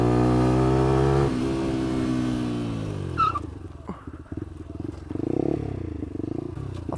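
A Lexmoto LXR motorcycle brakes hard over speed bumps: the engine drone drops abruptly, followed by clattering and scraping as the front wheel locks, then the engine picks up again at a lower rumble.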